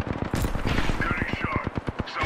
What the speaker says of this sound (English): We got Robin Hood shooting at us.